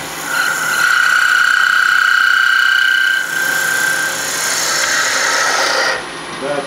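A wooden spinning top being turned on a lathe with a half-inch gouge, the cut setting up a sustained high whining vibration chatter that runs steadily for several seconds before cutting off near the end.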